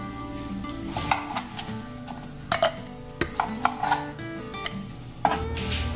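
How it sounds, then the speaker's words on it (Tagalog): Fish frying in a pan, a constant crackling sizzle broken by sharp scrapes and clanks of a utensil stirring and turning the pieces, close and loud with no talking. "Yun, luto na po yung ating pritong isda."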